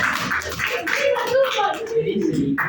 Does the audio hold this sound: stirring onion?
no